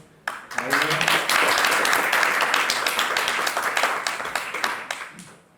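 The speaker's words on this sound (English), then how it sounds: "let's give him a big round of applause" An audience at a tech talk breaks into loud, sustained applause, many hands clapping together for several seconds before tapering off.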